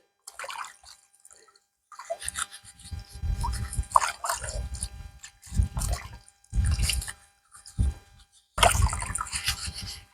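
Aloe vera leaves being washed in water, with bursts of splashing, rubbing and dripping that come in separate close handfuls with short quiet gaps between them, and no talk.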